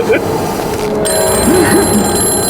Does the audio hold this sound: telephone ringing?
yes